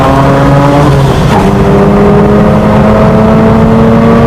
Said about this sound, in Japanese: The mod champion combo Seijiara and the rotary powered RX-8.